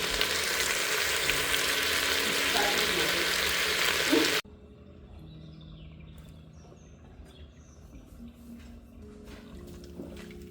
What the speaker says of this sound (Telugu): ఇప్పుడు బాయిల్ అయిపోవడం స్టార్ట్ అయింది కదా తిప్పి